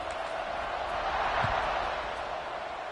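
Stadium crowd in a college football video game, a steady broad roar of massed voices that swells slightly midway and holds throughout, with a low thump near the middle.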